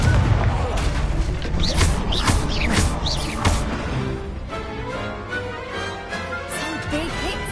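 Confringo blasting spells explode in rapid succession during a Hogwarts Legacy duel, a dense, loud barrage of booms and blasts with a voice faintly mixed in.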